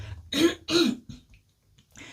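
A person coughs twice in quick succession, then clears their throat with a softer rasp, close to the microphone and otherwise quiet.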